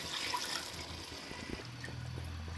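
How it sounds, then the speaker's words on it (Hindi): Water is poured into a pot of fried rice for biryani, splashing and trickling nearby for a couple of seconds before settling into a low hum. "3 गिलास पानी मैंने डाल दिया है।"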